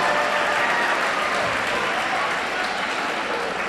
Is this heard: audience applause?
yes